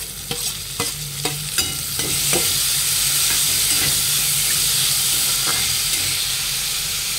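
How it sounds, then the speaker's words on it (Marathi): Tomatoes tipped into onions frying in a pan for green moong usal, a few sharp clatters and spoon taps followed by a loud, steady sizzle and hiss. "कांदे आपले छान फ्राय झाले। आता टोमॅटो टाकून घेऊया।"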